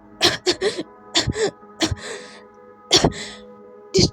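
A woman coughs repeatedly in short harsh bursts, some in quick pairs, close and loud with brief pauses between.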